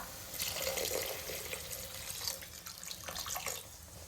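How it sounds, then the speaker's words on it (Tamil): Water is poured into a pan of quail egg masala gravy, making a continuous, soft splashing and trickling stream that lasts several seconds, with no voices. "இப்போ நம்ம தண்ணி சேர்த்துக்கலாம்"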